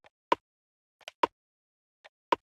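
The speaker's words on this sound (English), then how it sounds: "we've just got this little flammy snare here" A crisp snare drum struck in quick flams, three double hits spaced evenly apart, each a grace note followed by a louder crack, alone in silence.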